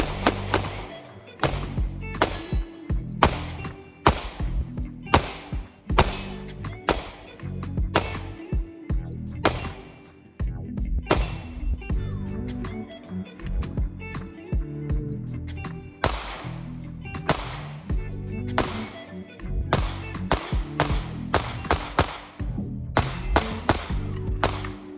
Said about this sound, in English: out at the range today with the IWI Masada 9S, the compact style Masada here guys, shoots 9mm.